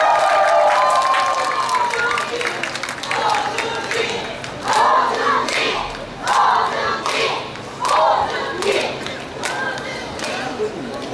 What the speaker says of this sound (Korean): 다시 한번 오준기 도지사 후보님께 큰 박수를 부탁드리겠습니다.